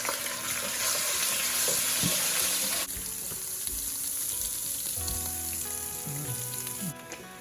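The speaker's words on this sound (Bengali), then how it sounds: "তেলের মধ্যে আমি রসুন বাটা দিচ্ছি। রসুনটাকে খুব ভালো করে ভেজে নিতে হবে।" Garlic paste sizzles steadily and loudly in hot oil, a dense continuous frying hiss with occasional stirring clinks and scrapes in a home kitchen.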